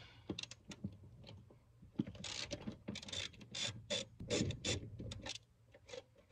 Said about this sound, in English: And then we will go ahead and remove front bolts.